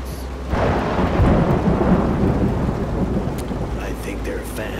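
A thunderstorm in the video game Road 96: a deep rumble of thunder rolls in over steady heavy rain, loud and sustained, with no talking.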